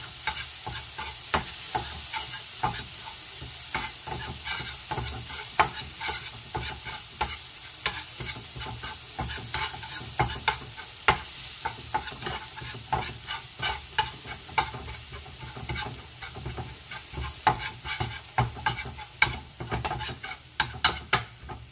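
Food stirred in a sizzling pan for lunch, a steady hiss of frying under continuous scraping and clicking of the utensil against the pan, close and fairly quiet.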